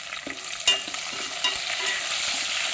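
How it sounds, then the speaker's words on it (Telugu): Onions frying in a pan for brinjal curry, a steady close sizzle with a couple of sharp stirring scrapes of the spoon, no talking. "ఇందులోకి ఉల్లిపాయలు వేసి వేగనివ్వాలండి"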